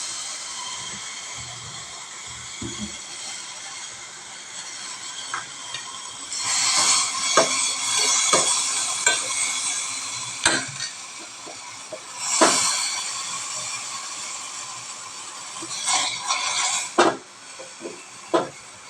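Crushed leaves boil in a pot on the stove, giving a steady hiss with repeated louder bursts of sizzling and bubbling.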